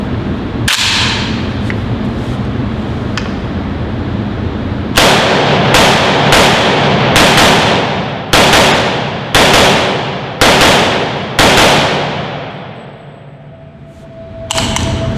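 Rapid single shots from an AK-74 pistol chambered in 7.62x39, fired outdoors, each loud crack followed by a ringing decay, about eight shots in an uneven cadence after a stretch of steady background noise.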